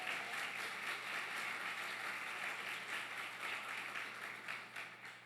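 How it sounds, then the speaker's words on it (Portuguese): A church congregation applauds with sustained, dense clapping that sounds fairly distant and soft, tapering off toward the end. "Você pode dar um aplauso a ele,"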